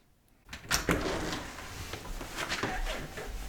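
A door opens with a sudden burst of handling noise and a loud, sustained rush that carries on for about three seconds, following a near-silent start.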